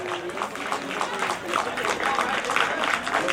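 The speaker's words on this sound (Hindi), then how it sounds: "तालियां जोर से बजाएं।" A crowd claps steadily and without a break through a school sports prize-giving, with voices talking over the applause.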